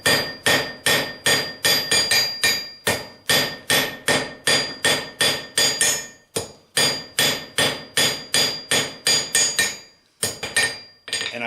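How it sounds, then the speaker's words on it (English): Steady, loud metallic hammer blows on black iron over an anvil ring out in quick rhythmic bursts while forging a hook, a short pause now and then, with no talking. "hammering on black iron is the devil's work"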